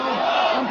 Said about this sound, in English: The crowds chanted for the visiting Gorbachev, not for their own die-hard leaders